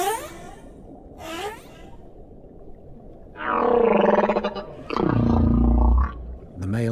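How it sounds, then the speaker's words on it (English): A male humpback whale sings, giving long rising moans and groans with rough tonal swoops. The phrases come in separate loud calls with quiet gaps between them, and no voices are heard. "The male humpback may sing for hours or even days."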